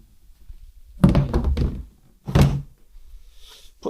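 Two loud dull metallic thunks about a second apart, with some clatter, as divots are knocked out of welded sidecar metal on a Honda CT110 build; no speech.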